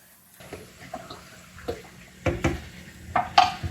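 Fodder seeds rinsed with water, probably in a tray: splashing and trickling with clattering knocks that build toward the end, close and alone.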